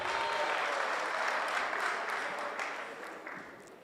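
An audience claps through a public hearing of a parliamentary health committee, moderately loud, fading gradually toward the end, with no talk.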